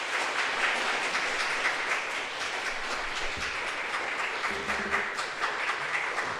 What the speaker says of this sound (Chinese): 我们用热烈的掌声欢迎魏贤牧师来